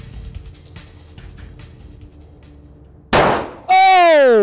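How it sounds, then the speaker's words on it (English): A .45 ACP round from a Colt Commander pistol strikes a 2-liter plastic bottle outdoors: one sharp, loud shot rises out of quiet ambient noise and is followed at once by a ringing, high-pitched tonal tail. "Let me grab another mag and we'll hit the big yellow bottle there and see what the 45 does to the 2-liter."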